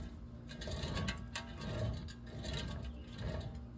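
A noisy, worn vehicle axle plays back through a speaker, making a rhythmic mechanical grinding and ratcheting whir that pulses in waves without any talk.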